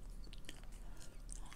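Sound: chewing sugar-free Extra bubble gum

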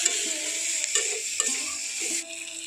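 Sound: stirring gima greens with salt and turmeric in a pan

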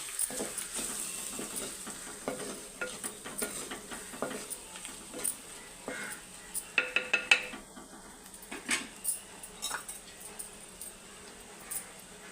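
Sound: spice mixture cooking in oil

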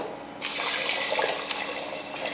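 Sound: water poured into pot with lentils for cooking

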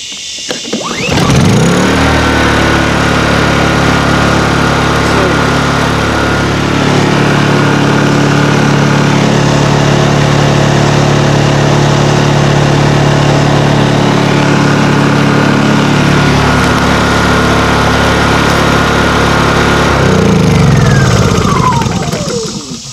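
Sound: portable generator engine running

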